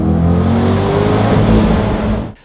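A C8 Corvette Convertible's exhaust roars loudly and steadily as the engine revs, a close, full rumble that cuts off abruptly at the end.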